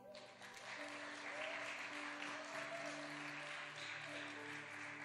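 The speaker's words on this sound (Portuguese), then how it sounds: "Me ajuda a receber com uma grande salva de palmas nosso pregador da manhã, o Anderaine." A congregation at a Sunday morning family church service claps to welcome the morning preacher, sustained applause that swells after a moment and holds steady, with faint sustained tones and murmuring beneath.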